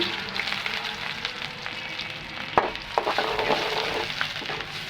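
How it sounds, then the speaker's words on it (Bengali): Chopped onions sizzle steadily in mustard oil in a hot kadai, with a few sharp clicks of a utensil stirring partway through. "পেঁয়াজটা আমি একটু ভালো করে ভেজে নেবো"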